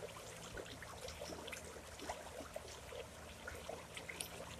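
Steady broadband rush of flowing creek water, continuous and fairly close, with small trickling splashes and no voices.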